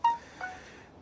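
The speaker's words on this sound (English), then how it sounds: "sorry about that noise. That was my phone." A short phone notification chime rings out clearly at the start, followed by a fainter second tone a moment later, with quiet room background and no talking.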